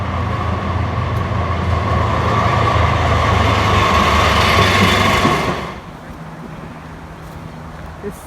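A Melbourne tram rumbles along with a steady rolling roar that fades abruptly, leaving a quieter hum with faint murmuring.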